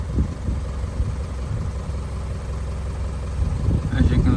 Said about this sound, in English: so we've got the truck idling